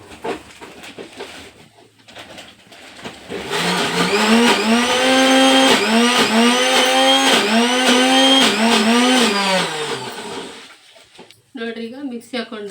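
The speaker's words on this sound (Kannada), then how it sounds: "ಈಗ ಇದನ್ನು ಮಿಕ್ಸಿ ಹಾಕೋಬೇಕು ರೀ." A mixer grinder blends rava dosa batter in a village-style kitchen, a loud steady whirring hum with shifting pitch that runs for several seconds, framed by speech before and after.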